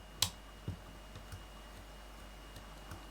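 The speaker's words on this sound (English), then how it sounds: "what you're hearing underneath is the point motor click" A Peco PL-15 point motor on a model railway throws the point with one sharp, close click, followed by a few fainter ticks in an otherwise quiet room.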